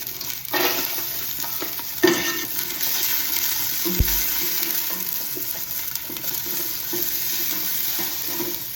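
Shallots sizzle in grapeseed oil in a hot pot, a steady close crackle running throughout with a few louder stirring knocks and scrapes against the pot, no voices.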